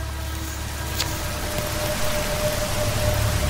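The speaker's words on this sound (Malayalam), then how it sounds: "മഴ തകർത്ത് പെയ്യുകയാണ്." Heavy rain pours down in a dense, steady wash of noise that stays loud and even throughout, with a faint low rumble beneath and no voices.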